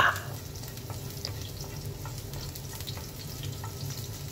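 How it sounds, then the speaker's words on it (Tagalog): Ginger sautés in hot oil in a pan with a steady, soft, close sizzle and a few faint crackles, alone with no voices. "unang igigisa po natin mga kaibigan yung ating luya"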